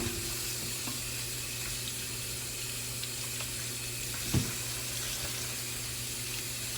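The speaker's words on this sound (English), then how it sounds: "So I'm gonna wash them now in the sink here." Kitchen sink faucet runs steadily while sweet potatoes are washed for Caribbean baked sweet potatoes, a close, even rush of water with a single soft knock partway through.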